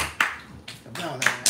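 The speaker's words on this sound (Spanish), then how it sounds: "¡Aplausos!" A few scattered hand claps ring out, three or four sharp bursts spaced unevenly and close by, with a voice murmuring between them.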